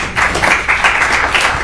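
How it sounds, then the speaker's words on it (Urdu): An audience at a literary festival claps steadily for a short stretch, dense and close, a continuous patter of many hands with no voices. "آپ تالی بجا رہے ہیں"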